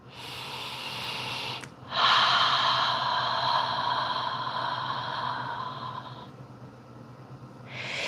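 A long, deep inhale during a postpartum rib and diastasis recti exercise, heard as a close, airy breath that begins after a short catch and then fades slowly, with another breath starting at the end.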